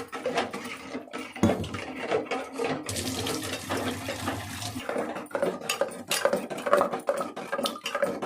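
Spoon stirring a thickening cooking mixture in a pot at home, with a wet, sloshing scrape and clinks of metal against the pot, continuous and fairly close, with a louder, fuller stretch in the middle.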